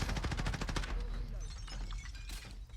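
Rapid gunfire from Call of Duty: Modern Warfare (2019) in a large multiplayer match: a fast burst of sharp shots at the start, then scattered pops and clatter trailing off, with a voice speaking faintly underneath.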